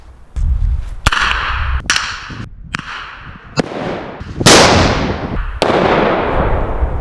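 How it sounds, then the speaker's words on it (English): A bear banger noise deterrent fired from a handheld launcher, its projectile bursting about 100 feet away in a sharp, loud bang, amid several other sharp cracks and pops across a few seconds outdoors. "So this shot a projectile out of here about 100 feet before it exploded, making that big bang."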